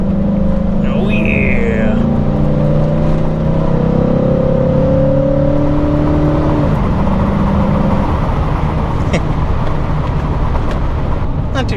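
An old Chevrolet Silverado pickup with 3.23 gears accelerates while driving, its engine droning steadily and rising under a brief excited exclamation from a person inside the cab.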